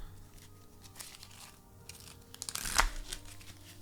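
A deck of cards being shuffled for a tabletop game, a soft papery riffle and crinkle building to a brief sharp burst near the end, close and quiet.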